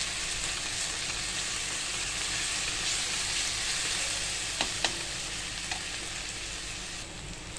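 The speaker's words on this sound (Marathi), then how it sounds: "आता आपण आलं लसूण पेस्ट टाकणार आहे। तर हे सुद्धा आपल्याला चांगली परतून घ्यायची।" Ginger garlic paste sizzles and fries steadily in a hot pan, a continuous close hiss with a few faint clicks of stirring near the end; no voices.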